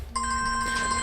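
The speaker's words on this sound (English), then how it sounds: "that's my phone" A mobile phone ringtone starts abruptly and rings with sustained, bright electronic tones, loud and close, with a slight change in melody partway through.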